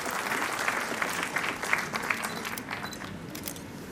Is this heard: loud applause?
yes